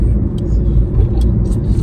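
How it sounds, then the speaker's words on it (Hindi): Steady car engine and road rumble from inside a newly bought car being driven at good speed by a learner driver, a continuous low drone throughout with no talk. "आज बेसिकली ये अपनी नवी गड्डी ली है, ड्राइविंग कर रहे हैं"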